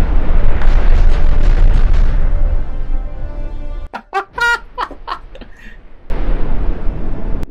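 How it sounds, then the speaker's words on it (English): A missile blast in the space RTS game Galaxy Reavers erupts as a loud rumbling explosion, then cuts to brief sharp synthetic effect blips before the roaring wash returns. "Wow, that explosion is nice."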